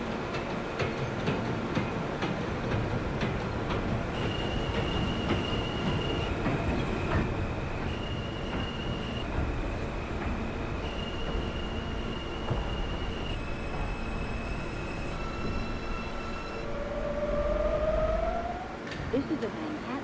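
R160 subway train running on the J line in OpenBVE, a steady loud rumble of wheels and motors with tonal inverter whines that shift pitch, ending in a rising squeal as it brakes, no talk.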